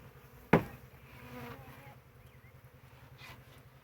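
Bees shaken into a nuc box: a sharp knock of the box, then a low steady buzzing of the swarm close by, lingering faintly throughout with no talking.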